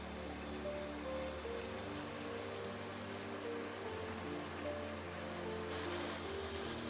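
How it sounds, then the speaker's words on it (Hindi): Beef mince (keema) fries in oil in a dhaba-style karahi, making a steady, quiet, even sizzle that runs throughout with no voices. "कीमा पहले थोड़ा सा फ्राई कर लें, इससे बहुत अच्छा जायका आता है इसका"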